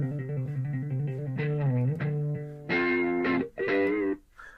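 Electric guitar through a Fender Deluxe Reverb amp, warm, slightly driven tone, played alone in short phrases with a few sustained chords and pauses.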